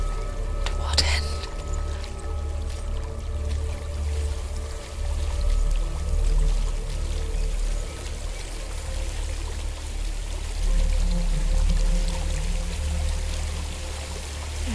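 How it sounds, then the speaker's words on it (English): A waterfall in Hellblade: Senua's Sacrifice pours with a steady, rushing wash that stays fairly loud throughout. Low voices murmur over it at times. "There's a waterfall."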